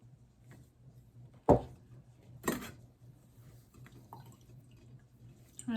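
Mullein tincture strained through layers of cheesecloth gives a few faint, separate drips and small splashes in a quiet room.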